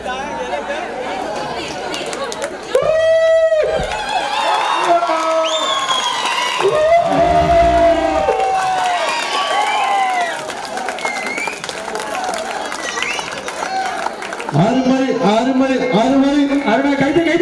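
An audience at a stage function claps and cheers in a sustained, lively burst, with crowd chatter and loud voices talking over the applause throughout.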